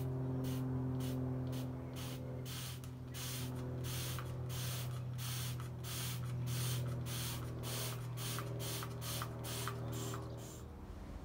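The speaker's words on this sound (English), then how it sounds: "I'm going to spray it down into the biggest hose." Rapid, regular bursts of a cleaning spray bottle hiss one after another into a classic Mini engine part's hose over a steady low mechanical hum.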